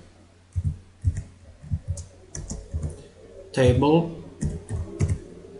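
Someone types an SQL statement on a computer keyboard, giving a steady run of close, soft key clicks, with someone speaking over them.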